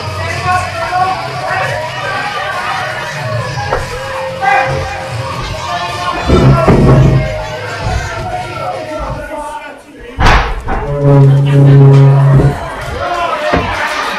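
A wrestling crowd cheers a wrestler's entrance at a main event, a busy mix of shouting and cheering from many voices, including children, with louder surges, under steady commentary.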